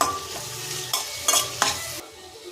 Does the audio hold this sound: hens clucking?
no